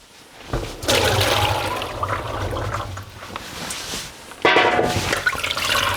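Food is rinsed under a running tap: water gushes and splashes loudly, pauses briefly, then surges again nearby.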